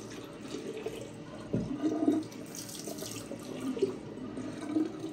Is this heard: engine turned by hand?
no